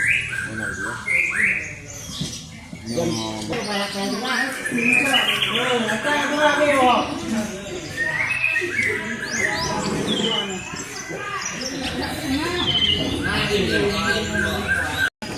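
Many songbirds chirp and sing at once at a kicau mania birdsong contest in Meulaboh, Aceh, a dense, continuous tangle of trills and whistles over crowd murmur and nearby talking.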